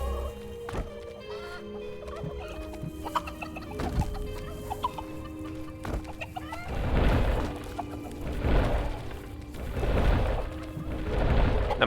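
Chickens cluck in a video game dungeon defense, repeated clucks and squawks over a busy game soundscape, with louder bursts of fowl noise pulsing in the second half.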